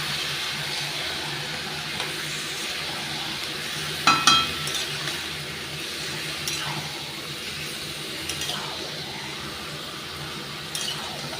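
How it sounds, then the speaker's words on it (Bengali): Chicken scraps fry with onions in a pan, giving a steady, moderate sizzle throughout. A short cluster of metallic clinks and stirring scrapes comes near the middle, with a few faint knocks later. "সুন্দর করে একটু ভেজে নেব"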